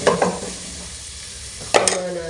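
Ginger sautéing in a pan for arroz caldo: bursts of sizzling and spatula scraping at the start and again near the end, with a quieter hiss between, close by.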